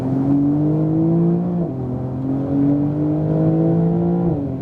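A 2018 Porsche 911 Turbo S accelerating on a track, heard from inside as a loud, smooth engine drone rising in pitch, dropping at a gearshift, then climbing again.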